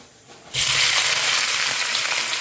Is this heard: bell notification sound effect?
no